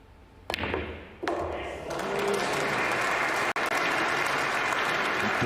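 Crowd applause breaks out after a shot in a pool match at the World Pool Masters, starting with sharp ball knocks and then swelling into steady, loud clapping that continues to the end.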